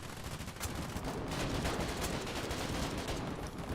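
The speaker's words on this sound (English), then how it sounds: "I gotta pop up and take my shots." Gunfire in the video game Foxhole, a dense, steady barrage of overlapping shots and bursts that holds at moderate loudness the whole time, with no talking.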